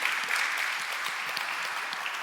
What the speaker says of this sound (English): Thank you so much for a fantastic talk. A round of applause for Dennison,